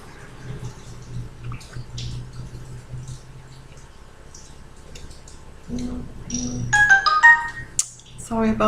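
A mobile phone ringtone goes off during a tarot card reading, its bright melodic tones rising near the end over quiet room noise and soft handling sounds.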